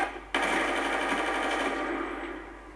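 A video game gun fires in a rapid continuous burst that starts abruptly and keeps going until the magazine runs empty, trailing off near the end, loud and close with no talking.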